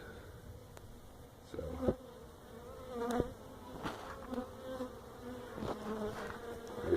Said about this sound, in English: there's still some kind of loose bees in there, and they are not happy with me